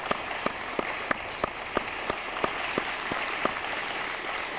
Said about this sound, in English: I'd like to ask that we all give him a round of applause